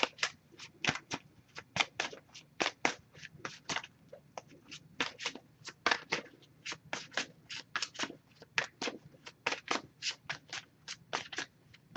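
A tarot deck is riffled and shuffled repeatedly in quick crisp bursts, a steady run of sharp fluttering snaps, close and quiet.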